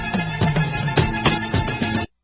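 Short sample from a disco track: dense orchestral disco music with a steady pulsing beat and sustained full-range instruments, loud and close, stopping abruptly after two seconds.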